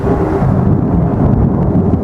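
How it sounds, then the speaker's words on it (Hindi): A loud thunderstorm rumbles continuously as a sound effect in a Hindi village horror story, a dense low roar of thunder with wind-like noise and no talk. "लेकिन साथ लेकर आया ऐसा तूफान"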